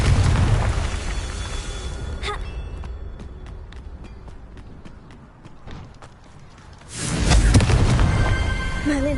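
A Confringo fire spell explodes in Hogwarts Legacy with a loud roaring burst of fire that swells suddenly after a quieter stretch of footsteps and ticking, then stays strong and rumbling to the end.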